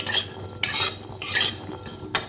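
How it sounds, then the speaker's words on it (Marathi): Walnuts roast in hot ghee in a pan, with four scraping stir strokes sweeping through in separate bursts between short pauses and no talking. "ह्या तुपावरती हे अक्रोडही मी तळून घेणार आहे, म्हणजे थोडेसे भाजूनच घेणार आहे"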